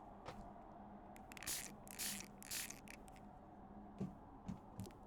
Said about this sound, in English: I wonder if you can hear my little spray bottle.